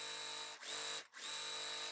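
Sewing machine chain piecing quilt blocks for a Valentine's Day table topper, a steady high-pitched motor whir that runs in bursts with two short pauses between stitching runs, close and alone.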